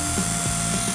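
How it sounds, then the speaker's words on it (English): Masonry drill fitted with a mortar bit boring holes into a garden wall, giving a steady, loud, close whine with slight pitch dips as it bites into the mortar, heard alone throughout. "using a mortar bit to drill the holes and putting in hooks to hold the chicken wire away from the wall"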